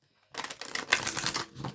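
Tarot cards being shuffled by hand, a dense run of papery riffling and flicking that starts abruptly after a short silence and carries on steadily and fairly close.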